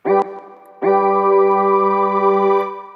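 A bright synthesizer plays a short chord, a brief pause, then a sustained rich chord holds steadily until the end.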